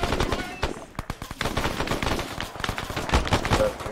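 Rapid AK rifle gunfire in the ARMA 3 video game, dense bursts of sharp cracks firing continuously over a few seconds, loud and close, with faint voices mixed underneath.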